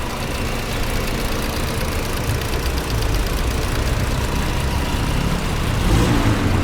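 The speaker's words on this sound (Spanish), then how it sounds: "Ahorita el motor se escucha así." A car engine idles steadily and close by, its continuous rough mechanical rumble holding an even level from start to finish with no voices over it.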